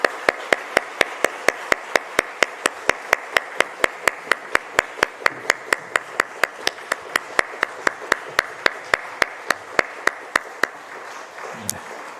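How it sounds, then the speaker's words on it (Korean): Dawn prayer gathering at a church, with crisp, evenly spaced sharp claps in a fast steady beat, close and prominent, continuing for several seconds before stopping abruptly. "우리 다시 한번 뜨겁게 박수하겠습니다."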